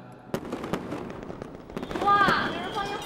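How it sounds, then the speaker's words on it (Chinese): Fireworks set off outdoors in a yard crack and pop in a string of sharp bursts, some distant and some nearer, with excited voices and bustle around them. "哇，有人放烟花哎！"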